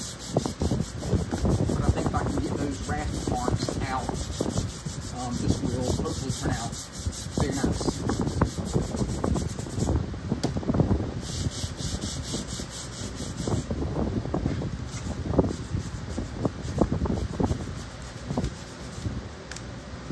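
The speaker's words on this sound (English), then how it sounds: "Let's do some sanding." Steady rhythmic rasping strokes of sandpaper on a quilted maple guitar neck, close and continuous, with a brief pause partway through.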